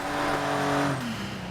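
A completely stock Porsche 959 in Forza Horizon 3 accelerating, its engine droning loud and steady with a rising then shifting tone over about a second and a half, no talk.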